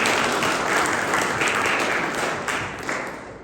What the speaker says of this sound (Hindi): क्यों ना एक जोरदार ताली हो जाए परमेश्वर ਦੀ।